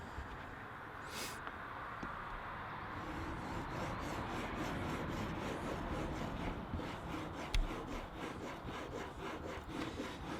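A steel edge tool is rubbed back and forth on a fine oil stone with oil, giving a steady, close, gritty hiss that runs throughout with no talking.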